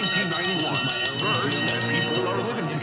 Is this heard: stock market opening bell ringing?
yes